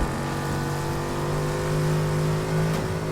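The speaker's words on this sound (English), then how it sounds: "Koenigsegg flies past you at Mach 10" A Koenigsegg in a racing video game speeding along, its engine a loud, steady droning roar with sustained tonal whine and slight rising pitch, continuous and close throughout.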